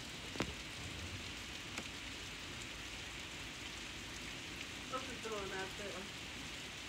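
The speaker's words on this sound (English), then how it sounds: "Just raining." Steady rain falls in a backyard after Hurricane Ida, a soft continuous patter with a few brief birdlike chirps and faint knocks in the background.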